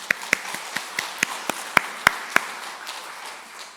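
A church congregation at Sunday worship claps hands in a sparse, uneven burst of about a dozen sharp claps over three seconds, a few louder than others, with no talking over them.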